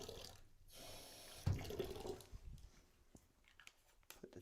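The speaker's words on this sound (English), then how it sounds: "We're going to put some water in." Water poured into a container with a lid, part of a mixing or brewing trial in a research and development room; a moderately loud splashing pour with a brief heavier gush near the middle, then fading trickles and small handling knocks.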